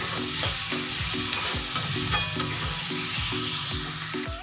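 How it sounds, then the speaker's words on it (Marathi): A paste of green chili, garlic and cumin sizzles and fries in a pan for methi thecha, with a spoon stirring it in a steady, repeated scraping rhythm that keeps up close and loud throughout. "मिरच्या पेस्ट आहे ना आपल्याला याच्यामध्ये परतून घ्यायची आहे"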